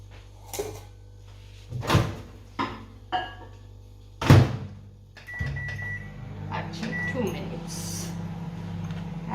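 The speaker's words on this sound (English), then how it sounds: "So it goes in the microwave for 1 minute." A steady low mechanical hum runs through the clip, a microwave oven running while heating food for kichdee, with occasional thuds, clatters and brief talk over it.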